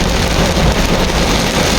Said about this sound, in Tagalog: sobrang lakas ng ulan dito sa Ortigas